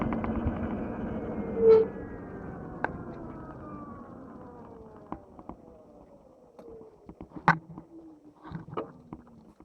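A train rolls along the tracks, heard from a Talaria Sting electric motorbike, its rumble slowly fading as it passes, with scattered clicks and clunks from the rails.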